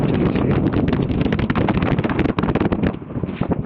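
Cool wind blows hard on Yelagiri hill, a dense roaring rush of gusts buffeting the microphone nonstop.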